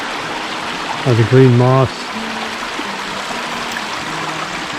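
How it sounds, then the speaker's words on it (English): A Suwannee River branch washes around a big cypress tree beside limestone rock, giving a steady broadband rush of flowing water throughout, with someone briefly speaking over it near the start. "The water's flowing around it"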